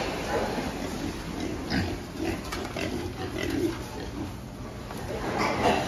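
Pigs in a barn grunting and snuffling in a steady, busy murmur, moderately close, over a constant ventilation hum with no talking.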